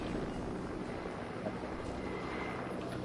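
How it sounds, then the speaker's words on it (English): A steady, droning helicopter rotor roar hangs overhead in a video game, continuous and fairly loud, with no pauses or change in intensity. "Have a helicopter coming out of the storm?"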